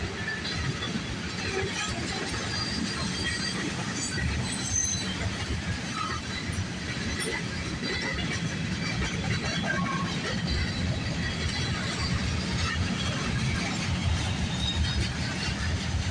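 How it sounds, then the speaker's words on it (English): A freight train moving at night from a rail yard toward Toledo, Ohio, three locomotives in the consist, with a continuous distant rumble of wagons and faint intermittent wheel squeal, heard steadily for sixteen seconds. "train starts off in the McMillan Yard and is heading towards Toledo, Ohio."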